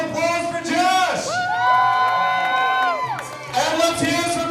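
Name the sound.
crowd applause and cheering for a dancer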